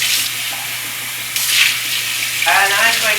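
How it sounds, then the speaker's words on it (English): Warm water pouring into a cup, a bright rushing stream that cuts in and out in short bursts, with a faint steady hum underneath. "We have to get some warm water in this here cup."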